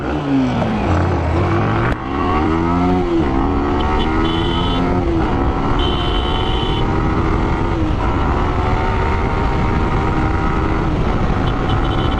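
A motorcycle roars past close by, its engine note rising then sweeping down as it goes, followed by a steady loud engine drone throughout.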